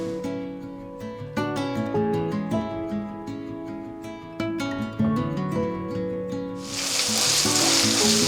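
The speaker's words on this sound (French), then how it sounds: "Donc là, c'est en train de cuire tout doucement." Beef and onions cook gently in a pan for cannelloni, a soft continuous sizzle beneath prominent background music, the frying hiss growing louder and brighter toward the end.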